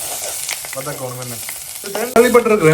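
Onions sizzle in a pan while being cooked for a prawn curry, a soft crackle that swells into a sudden louder hiss near the end, close and with no talking.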